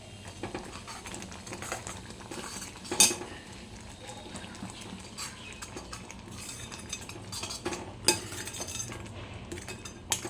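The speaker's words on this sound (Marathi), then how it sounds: "आता याला छान थोडंसं परतून घेते" A utensil scrapes and clinks against a pan as wheat bran sheera with cardamom powder is sautéed, a faint sizzle underneath, with sharper knocks now and then over a steady cooking hiss.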